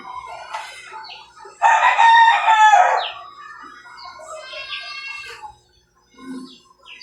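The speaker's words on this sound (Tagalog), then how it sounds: "Sana maraming mapisa dito mga kamanok para marami tayong sisiw" Chickens cluck close by while a rooster crows loudly in a long call, followed by further clucks and quieter fowl calls in a farmyard setting with gamefowl.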